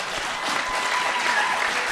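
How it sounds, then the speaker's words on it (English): Steady, dense applause from a conference audience fills the hall, a continuous wash of many hands at an even level without a break. "thank you for clapping"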